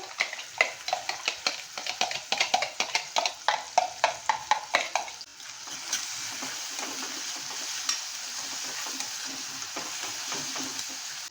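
Finely chopped onion with ajwain sizzles and is stirred in a pan for a spicy brinjal and potato sabji: a run of sharp, rhythmic scraping strokes up close gives way to a steady, even frying hiss with lighter occasional stirs.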